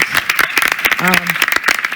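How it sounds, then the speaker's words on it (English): Conference attendees at an integrity and anti-corruption session clap for the panel speakers, scattered hand claps beneath a nearby voice talking over them. "So a big round of applause to our amazing speakers"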